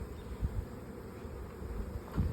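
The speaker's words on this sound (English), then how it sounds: "There's lots of bees over here." Honeybees buzz around an open hive, a steady low drone close by with a couple of louder swells as bees pass near.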